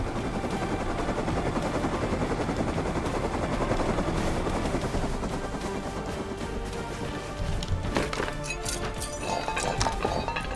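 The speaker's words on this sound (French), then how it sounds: "Tant pis si mon hélico crash ou pète." Helicopter flying in the survival game Rust, a continuous loud rotor chop and engine drone, with sharp clicks and bursts near the end that suggest distant gunfire.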